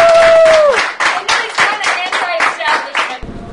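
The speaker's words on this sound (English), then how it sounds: "Round of applause." A short round of clapping from a small group of hands at a school, about a dozen separate bursts close by, loud and rhythmic, ending abruptly after a few seconds.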